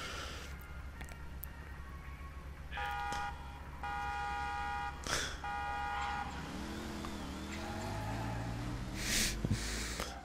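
Car horn honking in a driving video game, several sustained tonal blasts of a few seconds each over a constant engine drone, with a revving engine sweep near the end.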